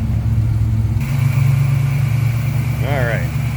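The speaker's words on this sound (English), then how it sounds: "Nice sounding car, a nice little rumble out of it." A 1981 Chevrolet Camaro Z28 with a 350 V8 idles with a steady low rumble close by, while a voice briefly sounds over it near the end.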